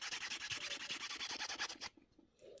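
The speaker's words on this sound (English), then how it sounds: "you're just buffing the mark out and then you're polishing the wire back up" Buffing and polishing a wire pendant with a cloth or polishing tool during men's jewellery making: rapid, steady rhythmic rubbing strokes, close and fairly loud, running for about two seconds before stopping abruptly, with no talk.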